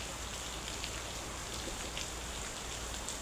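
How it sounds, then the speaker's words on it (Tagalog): Heavy rain pours down in a constant, dense hiss, with scattered drops pattering on a surface. "medyo malakas po uli yung ulan"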